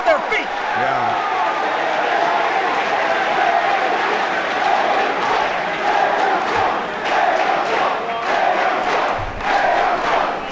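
A wrestling crowd at a Dragon Gate USA show roars and cheers steadily after AR Fox's kick flip against Arik Cannon, a dense, loud wall of voices that holds throughout.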